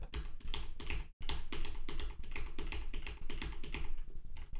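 Hitbox arcade buttons are tapped rapidly and steadily while playing Tekken 8, producing a dense stream of close, crisp clicks with one momentary pause.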